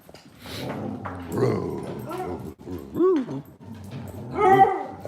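Dogs indoors at home bark and whimper in a string of short, pitched yips and whines, fairly close and loud, with some human voice mixed in.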